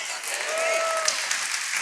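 A congregation at a communion service bursts into dense, continuous applause that fills the room evenly from start to finish, with a faint voice heard underneath.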